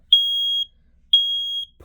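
A smoke alarm set off by smoke gives two long, loud, piercing electronic beeps of equal length, separated by a brief silence.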